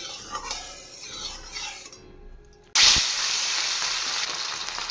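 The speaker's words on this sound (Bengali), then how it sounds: "এবার আমি মাছগুলো ভেজে নেব।" Fish hit hot oil in a pan after a quiet gap, and a sudden loud, bright sizzle starts and keeps frying steadily and close.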